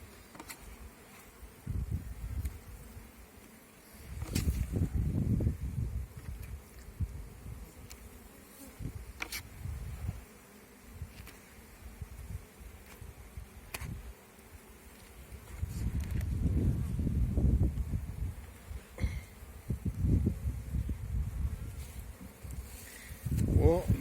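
Bees buzz around a hive in uneven swells, with rustling and handling noises rising and falling throughout.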